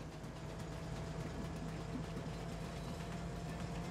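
A train rolls along in Farming Simulator 19, giving a continuous low engine rumble with faint rhythmic clacking of wheels, steady and moderately close with no clear talking.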